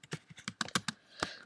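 Typing on a computer keyboard, a quick uneven run of crisp key taps close by, about a dozen strikes in little more than a second with a slightly heavier press near the end.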